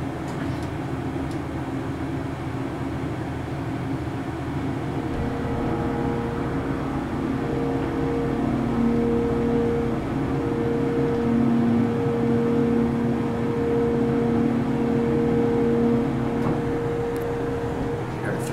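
A Dover hydraulic elevator motor hums steadily inside a hotel lift, with a constant whirring fan running throughout and a faint rising tone partway through.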